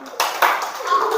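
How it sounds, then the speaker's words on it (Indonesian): A classroom group gives a short burst of applause for the fourth student group after their presentation, a brief patter of clapping from several hands nearby. "tepuk tangan dulu untuk kelompok 4"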